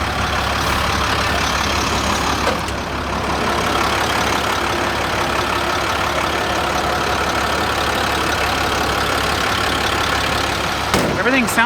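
A vehicle engine idling steadily, a continuous low rumble heard close by with no change in rhythm, with a brief click or clunk near the end.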